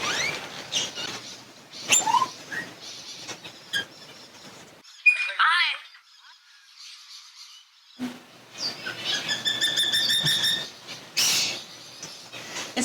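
Parrots call at close range in irregular bursts of squawks, chirps and whistles, separated by short quiet gaps.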